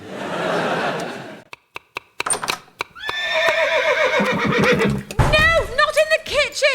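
A horse neighs loudly in a comedy sketch, with long wavering whinnies and snorts following a few sharp knocks and clatters, while voices are heard nearby.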